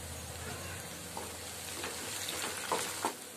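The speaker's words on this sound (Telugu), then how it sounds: "ఆనియన్ వేసుకుందాం ఇలా వేగిన తర్వాత రెండు రెంబలు కరివేపాకు వేసుకుందాం" Curry leaves, onion and green chillies frying in a pan, a quiet continuous sizzle with a few light stirring taps near the end.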